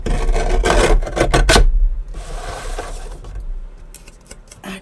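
Paper pages of a homemade reading journal made from a book are trimmed down, with close scratchy rasping strokes in a quick series, then quieter scraping and handling.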